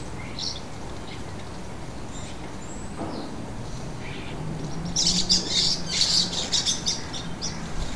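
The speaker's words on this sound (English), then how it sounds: "We can hear starlings squabbling over the feeding station." Starlings squawk and squabble at a garden feeding station, with scattered chirps early on and then a louder, harsh burst of bickering calls near the end, fairly close and without speech.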